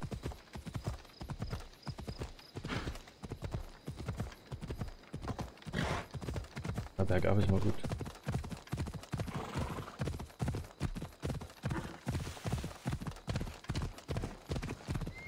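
Steady, rhythmic clip-clop of a horse's hooves while riding uphill in Assassin's Creed Odyssey, close and continuous, with a brief whinny midway and someone talking occasionally over it.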